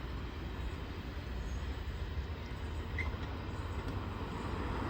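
Freight train I-142 rolling along a rail line gives a steady, distant low rumble with a constant broadband wash and no gaps, moderately faint throughout.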